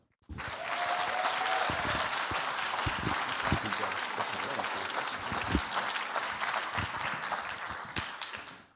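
A Longmont State of the City audience gives a warm round of applause as the Chamber of Commerce CEO comes up to speak. Dense, sustained clapping from many hands starts abruptly and holds steady before fading at the end.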